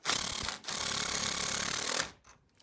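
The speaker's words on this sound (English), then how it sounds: "Now let's tighten up the bolt." Tightening a bolt on an antique vise makes a steady, close rasping and grinding of metal for about two seconds after a brief pause, then it stops and trails off into near quiet.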